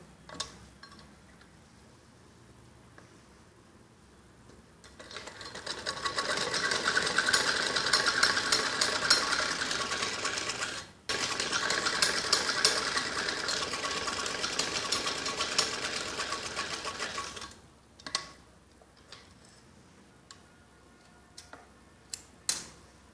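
A sewing machine stitches a kids' skirt top, running in a steady rapid whir for about twelve seconds with one brief pause, then stopping into quiet with a few clicks.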